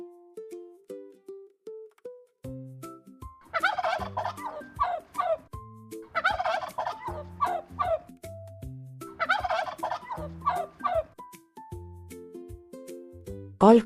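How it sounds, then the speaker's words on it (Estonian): A domestic turkey gobbles in three loud rattling bursts, each followed by shorter calls, set against soft background music; no talking. "Kalkun on kodulind."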